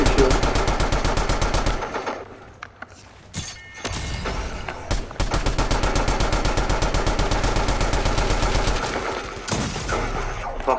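Rapid automatic gunfire in a Fortnite match, loud and nearly continuous bursts with a few brief pauses, close and dense throughout.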